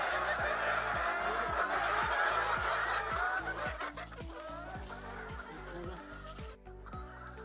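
A dense, continuous chorus of clucking and squawking BV380 laying hens in a poultry farm, many birds at once, with a steady rhythmic mechanical thumping underneath.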